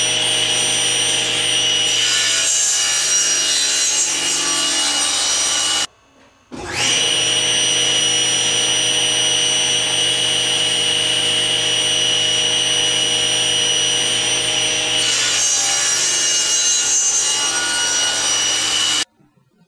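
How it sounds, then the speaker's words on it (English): A miter saw cutting wood at a 30-degree angle runs steadily for a long stretch with a loud high whine, briefly stopping, then starting again and running until it cuts off at the end. "I made a jig at the miter saw, and I set my miter saw to 30 degrees"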